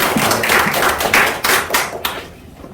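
Congregation clapping in welcome at a Presbyterian pastor's ordination service, a loud burst of rhythmic claps that thins out and fades toward the end.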